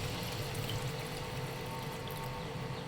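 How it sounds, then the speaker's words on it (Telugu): A glass of water is poured into country chicken curry cooking in a pot, a short, steady splashing pour heard up close with no talking. "గ్లాస్ వాటర్ పోస్తున్నాను."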